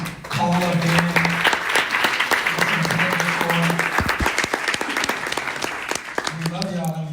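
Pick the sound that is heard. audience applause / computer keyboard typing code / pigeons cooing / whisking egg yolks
audience applause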